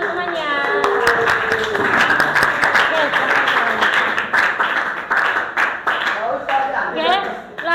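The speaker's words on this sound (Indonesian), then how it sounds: "Kasih tepuk tangan untuk temannya." Classroom of high school students clapping for a classmate during an Islamic religious education lesson, a steady burst of applause lasting several seconds with voices and chatter mixed in.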